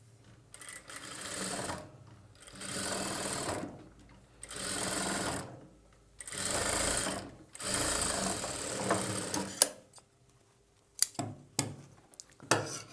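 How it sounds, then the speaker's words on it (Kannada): A sewing machine stitches piping onto a boat-neck blouse, running in four steady bursts of a few seconds each with short pauses, then a few quick stop-start jabs at the end. "ಆ ಸ್ಟಿಚ್ ಮೇಲೇ ನಿಧಾನವಾಗಿ ಈ ರೀತಿ ಸ್ಟಿಚ್ ಮಾಡಬೇಕು"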